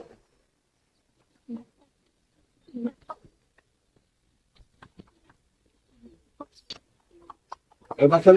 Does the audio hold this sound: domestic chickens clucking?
yes